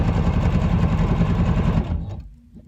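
A sewing machine stitches binding onto a quilt with a fast, steady mechanical whir. It runs close and loud for about two seconds, then slows and stops.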